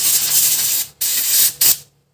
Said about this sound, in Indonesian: kita semprot juga saringan olinya ini, karena ini tadi sangat kotor